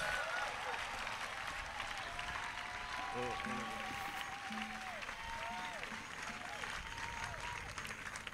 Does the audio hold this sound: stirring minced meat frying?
no